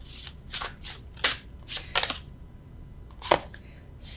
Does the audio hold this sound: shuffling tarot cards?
yes